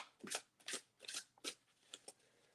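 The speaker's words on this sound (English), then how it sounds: "I'll just start picking up this deck here and start shuffling" A deck of playing cards being picked up and shuffled, several quick crisp riffling bursts in an uneven rhythm, close and fairly quiet with no talking.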